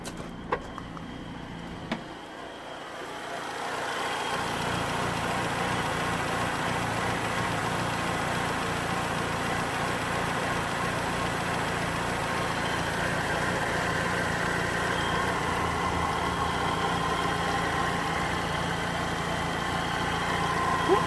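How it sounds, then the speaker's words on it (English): A Vauxhall Astra J 1.6 engine with camshaft faults idles steadily at close range, a low continuous rumble holding even throughout after a brief quieter start. "Let's gonna hear this engine running."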